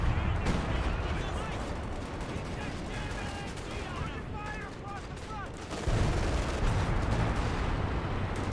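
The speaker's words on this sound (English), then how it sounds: "Got some artillery being rained on the Sheer Panzer quarters." Artillery and small-arms fire crackle in a Company of Heroes 2 battle, with dense overlapping booms and rattles under a steady stream of talking, and the barrage swells louder near the end.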